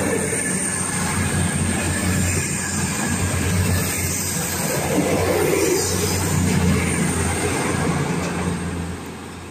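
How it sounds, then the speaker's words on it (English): A passenger train passes through Attenborough station on the Midland Main Line, a steady close rumble of wheels and rail noise that holds throughout and eases slightly at the end. "Passing by now, we'll have the last couple of trains of the day."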